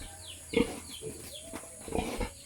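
Large pig on a provincial farm, a few close, low grunts and snorts spaced irregularly over a quiet rural background, with faint bird chirps high above.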